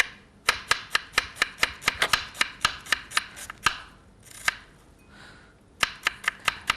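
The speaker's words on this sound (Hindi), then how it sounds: "बारीक चॉप करें प्याज को।" Onion being finely chopped with a knife on a board, a close, crisp series of about twenty evenly spaced chops with a brief pause midway.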